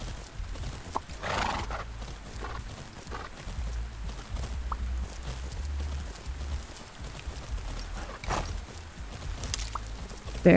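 Horses in the video game Fernhoof Grove clip-clop steadily along, hooves near and clear, with an occasional whinny breaking through the rhythmic walking.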